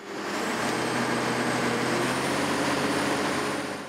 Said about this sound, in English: the entire tower, or spar, is lifted before the excavator starts to move